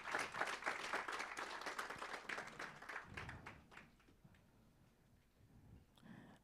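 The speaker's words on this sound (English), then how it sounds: "Can we clap for her as she comes?" A conference audience at a national planning indaba claps as a speaker walks up: dense applause for about three seconds, then thinning to scattered, fading claps, with a few faint late ones near the end.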